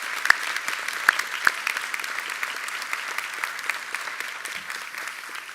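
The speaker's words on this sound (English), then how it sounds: "I would like the faculty and the graduate to join me in actually applauding for your" A graduation audience at a college of pharmacy ceremony applauds its international students, with steady, dense clapping from a large crowd filling the room throughout and a few sharper claps standing out near the start.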